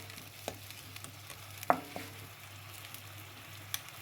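Vegetables and shrimps being stirred and fried in a pan, a faint soft sizzle with a few scattered light scrapes and taps, one clearer clink near the middle.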